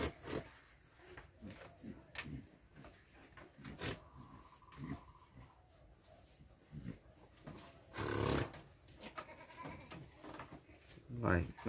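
Goats bleating on a goat farm, several calls scattered through the scene alongside talking, with one loud burst near the end.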